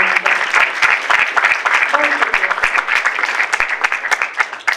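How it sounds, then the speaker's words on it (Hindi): Loud, sustained clapping from an audience at an evening music program fills the hall after a performance, with a few voices calling out over the steady applause. "आप लोगों की प्रस्तुति के लिए एक बार फिर से जोरदार तालियां।"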